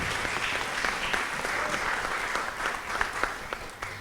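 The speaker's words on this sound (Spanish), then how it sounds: "De nuevo un aplauso fuerte para ellos que nos acompañaron en este escenario" An audience applauds guests on stage at a public library during a regional storytelling gathering, with fairly quiet, sustained clapping spread across the room and a few sharper claps standing out near the end.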